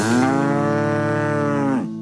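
A cow gives one long, loud, close moo that holds steady and then drops off sharply at the end, heard alone without talk.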